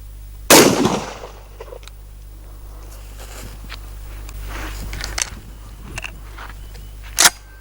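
A Dickinson Arms T1000 straight-pull tactical shotgun fires one loud, sharp shot of Remington 00 buckshot at 15 yards, followed by quieter handling clicks and a second sharp report near the end.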